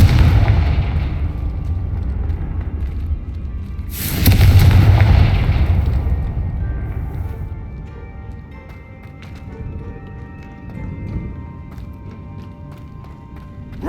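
A Confringo fire spell bursts in the video game Hogwarts Legacy, one loud, deep explosion with a rumbling decay, surrounded by quieter game ambience and soft footsteps.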